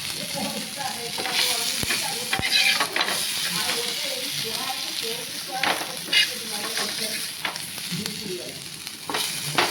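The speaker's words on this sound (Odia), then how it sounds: "ଦେଖନ୍ତୁ ହେଇଗଲା ଭଜା, ତାକୁ କାଢ଼ିଦେବି।" Food frying in oil in a pan at home, a steady loud sizzle running throughout with stirring scrapes and clatter over it, and faint talk in the background.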